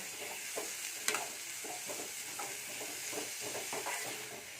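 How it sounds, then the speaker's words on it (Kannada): Field beans (avarekai) are stirred into hot oil with masala, a close sizzle broken by repeated scraping spoon strokes and one sharper clink. "ಈಗ ಅವ್ರಿಕಾಯಿ ಹಾಕ್ತಾಯಿದ್ದೀನಿ 1 ಕಪ್ಪು. ಇದನ್ನು ಕಲಿಸ್ಬೇಕು."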